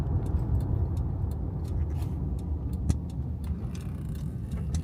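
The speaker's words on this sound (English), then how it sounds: "I thought we'd just book on up the hill in the ice vehicle today." Gasoline car driving up a hill, heard from inside as a steady low engine and road rumble with faint ticking and rattles over it, continuous and moderately quiet with no talk.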